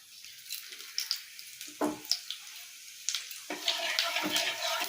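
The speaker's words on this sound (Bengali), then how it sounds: "তেল দিয়ে দিচ্ছি তেলের মধ্যে দিয়ে দেবো ফোড়নে জিরে তেজপাতা" Cumin seeds and bay leaves hit hot oil in a kadai for aloo dum, a faint crackle and splash building into a steady, brighter sizzle by the end.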